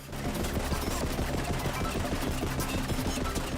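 SMG fire in Borderlands 3: a steady, fast rattle of submachine gun shots runs continuously at moderate loudness, with no talk.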